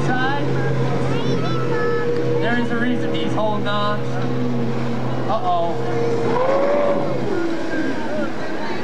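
Racing powerboat motors drone loudly and steadily at a 1995 West Virginia show, with an announcer talking over the engine noise and the tone dropping toward the end.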